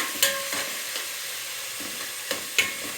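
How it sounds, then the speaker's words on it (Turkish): Meat and onions frying in a pan for an okra stew give a steady, close sizzle with scattered crackles and a few sharp stirring scrapes and clinks, with no talking. "Şöyle etler de biraz kavrulsun."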